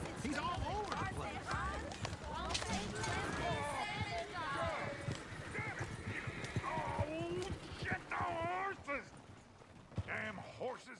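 Horses in Red Dead Redemption 2 run and clip-clop with occasional whinnies, loud and busy throughout, mixed with game sounds while people talk over them.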